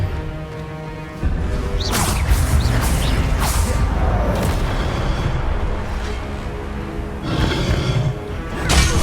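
The Expelliarmus spell being cast in the video game Hogwarts Legacy, with loud whooshing bursts and booming impacts repeated several times amid dense game action noise, with no talking.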